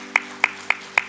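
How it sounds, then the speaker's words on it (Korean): A church congregation clapping to welcome new members, heard as four crisp, evenly spaced claps in a steady rhythm, close and clear with no talking. "다 함께 새 가족들을 환영하며 박수합니다"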